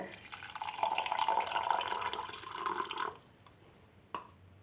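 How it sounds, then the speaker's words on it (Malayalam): Lukewarm water pours steadily into a cup of yeast for pizza dough, a soft trickling stream for about three seconds before it stops, then a single faint drip or clink. "ഇതിലേക്ക് ഇളം ചൂടുവെള്ളമാണ് ഒഴിച്ചു കൊടുക്കുന്നത്"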